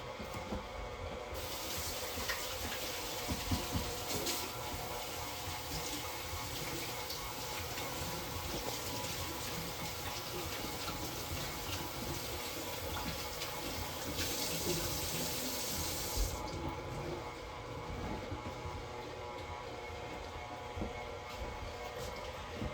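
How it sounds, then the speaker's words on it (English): Steady running water from a kitchen tap as fingers are rinsed after handling sticky hot cross bun dough, a continuous close hiss lasting the whole stretch with a brief brighter surge near the middle. "Now I'm just going to rinse my fingers off because it is a little tacky."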